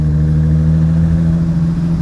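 A 1980 Kougar Sport with a Jaguar 3.8 litre engine accelerates, giving a loud, steady low growl with strong harmonics that holds close and continuous for the whole stretch.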